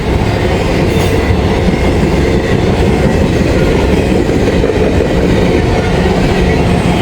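A CSX freight train, many of its cars empty, rolls past close by in Vandalia, Ohio, making a loud, continuous rumble with steady wheel clatter and no gaps throughout.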